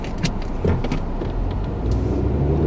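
A 2012 Volkswagen Jetta S with its 2.0 gasoline engine pulls at full throttle in sport mode, a steady low drone heard from inside the cabin with road rumble, loud and continuous throughout.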